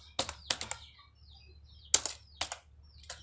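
Keyboard typing during CSS coding, heard as quick irregular bursts of keystrokes clustered near the start, in the middle and at the end, with short gaps of quiet between them, fairly close and clear.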